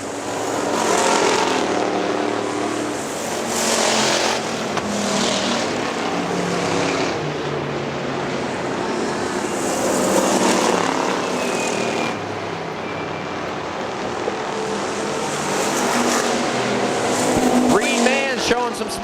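Factory stock cars roar around Hartford Speedway Park, engines rising and fading as the pack passes, loud and continuous with occasional tire noise, while a track announcer calls the race over the top.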